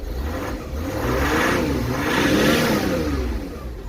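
A Peugeot 407 Coupe engine revs up loudly nearby, the note climbing and falling in two or three smooth swells over a steady rumble, with no voices.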